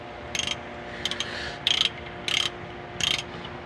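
A ratchet wrench clicks in five short bursts while loosening the timing belt tensioner bolts on a Mitsubishi L300 with a 4D56 engine, over a steady low hum.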